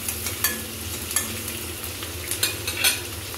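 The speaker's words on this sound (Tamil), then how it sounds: "வெங்காயமும் கருவேப்பிலையும் போட்டிருக்கேன்." Onions and curry leaves sautéing in a hot pan while the Maasi Karuvadu chambhal is prepared, a steady close sizzle broken by repeated scraping stirs of a spoon, with no talking.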